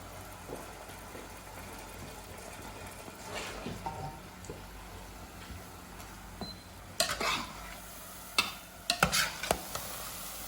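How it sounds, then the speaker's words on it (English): Food fries in a pan at home, a steady low sizzle running under scattered clinks and scrapes of a utensil stirring against the pan, with a few sharper knocks near the end. "Just fry it nicely, like so."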